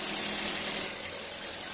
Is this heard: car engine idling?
yes